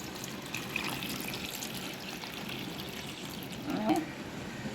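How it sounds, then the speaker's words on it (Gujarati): Water pours quietly into a bowl of potatoes and salt, a soft running splash with a brief louder gush near the end. "હવે આપણે નાખી દઈશું પાણી"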